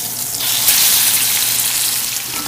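Beef searing in a cast iron Dutch oven over medium heat at a camp cook, a steady loud sizzle with a broad hiss that holds without a break, no voices.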